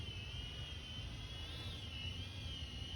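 An Ascend Aeronautics ASC-2450 drone climbing at full throttle gives a constant high-pitched whine over a steady rumble with wind, holding level for a few seconds without a break.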